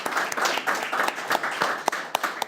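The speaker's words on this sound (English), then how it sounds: "Round of applause for Chelmsford Telecommunications." Audience applause at a live Democratic Town Committee candidates forum, a steady wash of many hands clapping with a few sharper nearby claps standing out, heard alone without talk.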